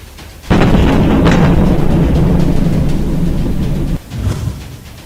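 Cruise missile strike in Kyiv, a loud, sustained rumbling explosion that roars for several seconds before cutting off, followed by a smaller, fainter second boom.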